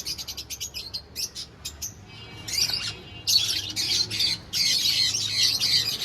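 Rainbow budgerigars give rapid bursts of shrill chirps and harsh squawks, first in quick repeated notes, then in longer overlapping chattering phrases, loud and close with no talking.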